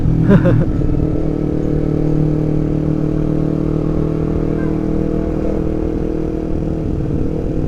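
Motorcycle fitted with an aftermarket exhaust, loud and close, giving a brief burst of sharp pops at the start and then settling into a steady droning engine rumble while riding.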